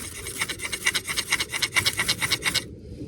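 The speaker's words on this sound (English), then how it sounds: "See if I can get fire going using Work Tough Gear bear claw." A Work Tuff Gear Bear Claw knife scraping wood in wet, cold woods to start a fire, giving a quick rhythmic series of about a dozen close, rasping strokes that stop near the end.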